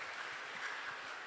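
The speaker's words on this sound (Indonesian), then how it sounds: "Kita beri tepuk tangan." A small church gathering with children claps for a youth group leader, a faint, even patter of applause from across the room, steady throughout with no talk on top.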